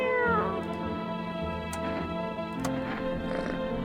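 A cat meows in a video game, a few clear mews with a faint ticking and soft game ambience underneath, no talking.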